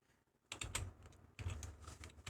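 Quick bursts of clicking keystrokes on a computer keyboard, two short flurries of close, soft taps separated by a brief pause.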